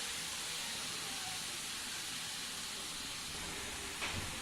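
Carrots for carrot halwa sauté in ghee with a steady, even, faint hiss that carries on without a break, plus one brief clink near the end.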